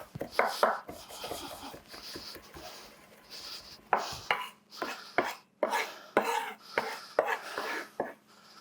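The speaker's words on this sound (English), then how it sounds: "just going to give it another little chop" A knife chops garlic on a cutting board in irregular crisp taps, close and fairly quiet, some quick bursts and short pauses between strokes.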